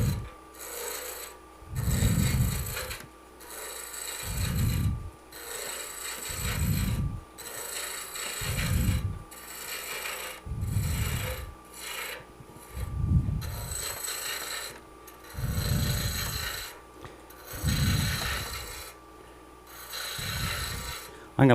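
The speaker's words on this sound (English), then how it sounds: "And I'll go ahead and start tapering the front down." A woodturning tool tapers a spinning wooden workpiece on a lathe, making a steady series of rasping scrapes, about one every two seconds, each swelling and fading with the stroke. A faint hum runs beneath.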